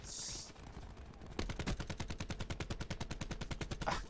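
Gunfire in Black Ops 4, a brief shot at the start, then a long rapid automatic burst of evenly spaced loud cracks, close and dominant.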